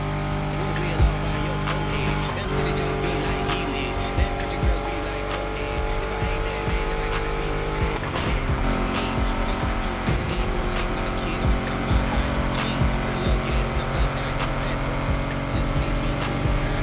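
Donk cars race in the video game The Crew Motorfest, engines droning steadily with tire squeals and skids breaking through, while voices talk faintly beneath the racing noise.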